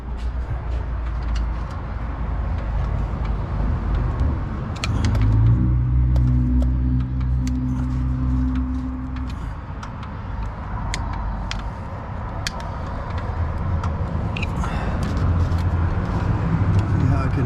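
A 1968 Chevy Suburban engine idling after its choke is loosened, a low steady rumble close by that swells for a few seconds midway, with talking over it.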